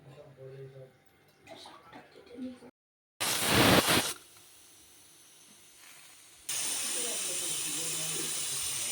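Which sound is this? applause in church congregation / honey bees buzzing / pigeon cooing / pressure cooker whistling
pressure cooker whistling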